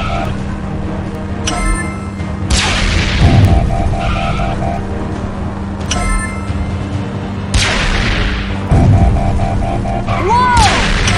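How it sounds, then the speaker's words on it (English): Morbots shooting at the Rescue Bots in a video game: repeated loud booms and crashing blasts with laser-like zaps and a steady background tone, arriving in two similar bursts. "They're shooting at us!"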